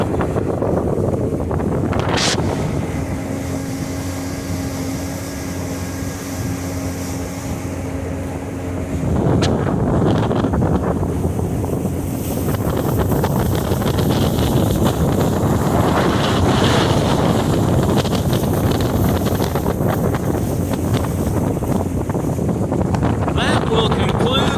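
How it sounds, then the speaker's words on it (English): A 1999 Landau pontoon boat's outboard motor runs on a lake, a continuous engine drone beneath heavy wind buffeting and water noise on the microphone, growing rougher and louder partway through. "one more quick little punch, and I'll show the motor running back there"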